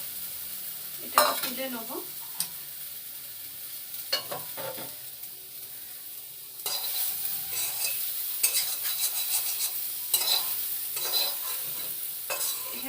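Methi greens sauté in a pan with a soft sizzle as a utensil stirs and scrapes in bursts, while a voice speaks briefly between the strokes.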